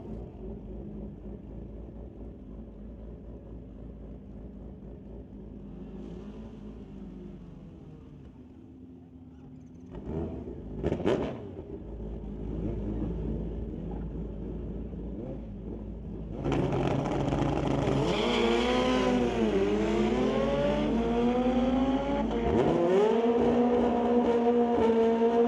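Motorcycles, one a Kawasaki, drag race at Mission Raceway; a low idle rumble gives way to brief sharp revs, then a loud sustained launch with engine pitch climbing through rapid gear changes.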